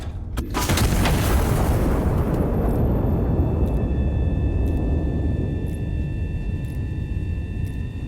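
A giant artillery mech's heavy gun fires in the video game Iron Nest: one sharp, deep boom followed by a long rumbling roar that slowly fades over several seconds, with faint mechanical tones ringing afterward.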